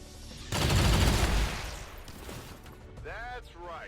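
Soldiers open fire in XCOM 2, a loud burst of rapid gunshots that rattles for about a second and then trails off into a rumble, followed by game sound effects and someone talking.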